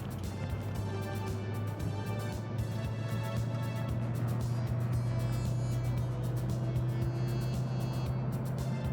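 A 1980s-era Mercedes-Benz 500SEC AMG coupe cruises steadily with a low, even engine drone and road noise from inside the cabin, no speech over it.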